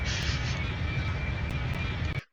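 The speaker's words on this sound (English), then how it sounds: "Reverse thrust and brakes on full there." A steady, loud roar of an A321's reverse thrust on the runway after landing in the Extreme Landings flight sim game, holding level for about two seconds before cutting off abruptly.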